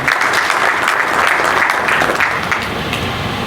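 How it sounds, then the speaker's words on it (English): Steady applause from a sizable crowd, dense clapping sustained throughout at a fairly loud, even level. "that's a round of applause for him"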